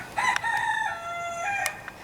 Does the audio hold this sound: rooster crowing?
yes